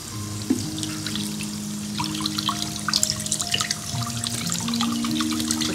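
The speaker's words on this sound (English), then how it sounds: "And I'm going to add a bit of water." Water is poured into a pot of egg curry with potato and green peas, producing a soft trickling and bubbling sizzle at moderate distance with small spattering crackles throughout.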